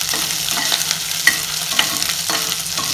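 Ingredients for coconut milk rice sizzle steadily in a pan while a utensil stirs and scrapes in regular strokes, close and clear with no talking.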